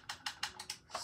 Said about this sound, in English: what you're gonna wanna type into here is